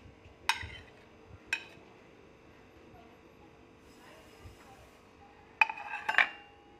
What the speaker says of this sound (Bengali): একটা বাটির মধ্যে আমি পনির নিয়ে নিচ্ছি, সুইট কর্ন নিয়ে নিচ্ছি